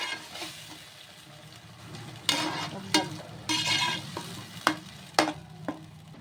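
Tomato gravy blended with onions and green chillies is stirred in a pan for tomato paneer curry, with a soft sizzle under several sharp scraping stir strokes that come in irregular bursts, close by, with no talk.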